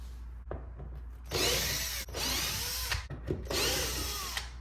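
Power drill backing out T25 Torx screws from a Volkswagen Passat front bumper, several short whirring bursts close by, separated by brief pauses and small clicks, with no talking.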